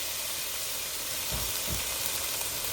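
Onions and minced garlic sizzle in olive oil in a pan, a steady, hissing crackle that is fairly quiet and close, with two soft low thumps partway through.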